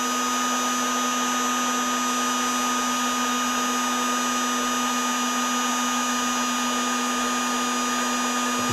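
An Edtran 18V cordless heat gun, a 350-watt battery model running LXT lithium batteries, blows with a steady, even whir and high whine that stays constant and close throughout, with no talking.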